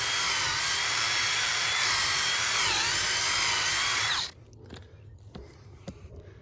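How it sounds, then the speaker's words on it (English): A high, whining power drill runs steadily for about four seconds, dipping briefly in pitch as it bores, then stops abruptly, leaving faint clicks. "Just kind of wiggle that drill around."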